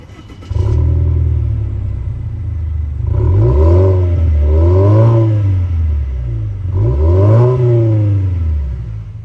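Subaru Levorg STI exhaust revved three times from idle, each blip rising and falling in pitch with a small raspy edge at the tailpipe, fairly loud and close with no talk.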